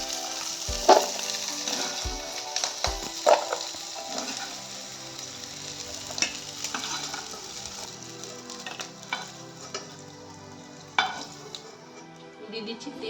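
Small crabs fry in a pan with a continuous soft sizzle, punctuated by a few utensil knocks and stirring clatters early on, no voices.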